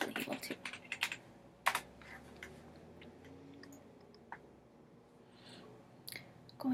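Computer keyboard typing in quiet, irregular bursts of clicks, busier at the start, then sparse taps with a few sharper keystrokes and pauses, no talking.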